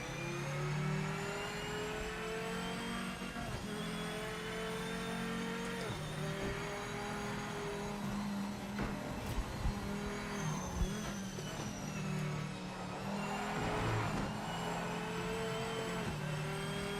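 A race car in the sim racing game Project Motor Racing holds a steady, loud engine drone that rises and falls in pitch through gear changes, with a constant rush of wind noise underneath and no talking.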